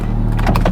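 An Audi TT's electric window motor whirs briefly, a short close mechanical hum with a faint squeak.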